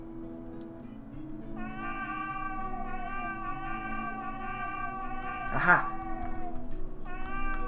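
Cat in the video game Blades of Heaven, a long drawn-out caterwauling meow held over several seconds, close and fairly loud, with a brief exclaiming voice breaking in.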